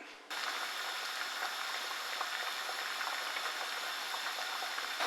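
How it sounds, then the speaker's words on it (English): Continuous bubbling and rumbling of water at a rolling boil around a vacuum-sealed food bag, steady and fairly close, with no talking. "I'll put this in boiling water and then I'll bring you back."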